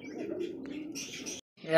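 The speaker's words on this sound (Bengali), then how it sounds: "এক জোড়া দেখার মতো রাজশাহী গিরিবাজ কবুতর" A pair of Rajshahi giribaz high-flyer pigeons give a short, low, muffled coo up close, followed by a brief higher chirp before a sudden gap.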